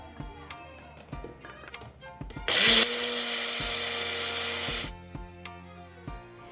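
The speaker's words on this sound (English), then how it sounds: "Grind oats to a fine powder." Roasted oats ground to a fine powder in a kitchen grinder, a loud steady whirring run of about two seconds, framed by tapping and clattering before and after.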